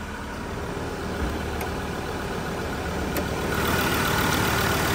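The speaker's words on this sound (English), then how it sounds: "If we listen to it run though, no major knocks, rattles or squeals, just that diesel motor ticking over nicely." A 2018 Ford Ranger XL diesel engine ticks over at idle under the bonnet, a steady, even mechanical drone with faint ticking, holding constant and growing slightly louder near the end, with no talking.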